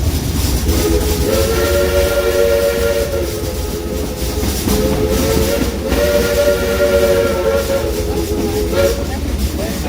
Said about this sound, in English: Great train ride